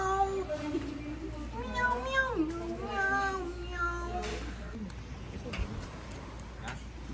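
A person imitating a cat with a run of sliding, pitched meows repeated in quick succession, close and fairly loud, in a casual setting by the beach.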